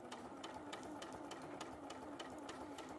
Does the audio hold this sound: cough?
no